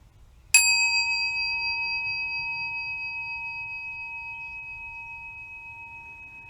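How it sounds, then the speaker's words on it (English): A meditation chime struck once, ringing out with a bright, pure sustained tone that decays slowly over several seconds above a faint low hum, with no voices. "when you hear this chime, just take a breath and feel yourself be fully present"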